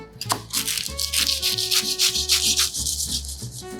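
A knife cutting through baked frozen puff pastry rolled with chocolate, close up: repeated crisp crunching and rasping strokes in a steady rhythm, with a faint background hum.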